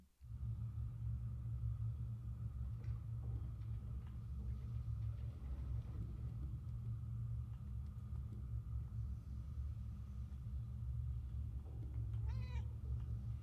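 A cat in the video game Murdered: Soul Suspect, with faint meow-like calls over a constant loud low rumble of game ambience that runs through the whole stretch.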